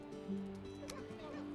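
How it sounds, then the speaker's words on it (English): A seagull calling in the video game Valheim, a couple of short honking cries heard close over steady game ambience and music. "Oh, I've got a seagull flying through."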